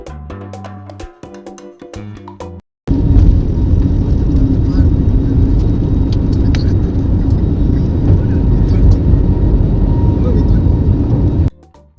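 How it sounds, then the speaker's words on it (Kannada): An airliner accelerating down the runway for takeoff, heard from inside the cabin as a sudden loud, steady engine roar that rises after a brief quiet, with music playing before it. "ರನ್ವೇಲಿ ಹೋಗ್ತಾ ಹೋಗ್ತಾ ಇದ್ದ ಹಾಗೆ ಸ್ಪೀಡ್ ಜಾಸ್ತಿ ಆಯಿತು ನೋಡ್ತಾ ಇರುವ ಹಾಗೆಯೇ ಫೈನಲಿ ಟೇಕ್ ಆಫ್ ಆಗಿ ಬಿಡ್ತು"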